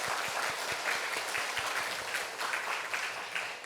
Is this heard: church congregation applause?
yes